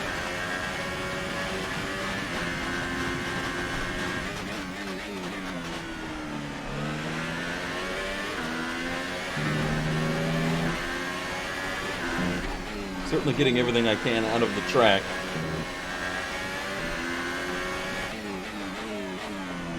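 A Formula 1 car in F1 2018 at Bahrain circuit runs laps, its engine note climbing and dropping through gear shifts at steady moderate volume, with someone talking over it throughout.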